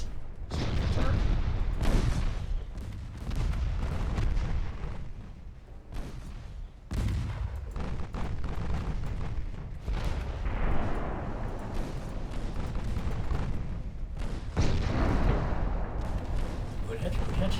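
Booming naval gunfire from big warship guns in the naval strategy game Ultimate Admiral Dreadnoughts, heavy distant salvos rumbling over a low roar, with someone talking throughout.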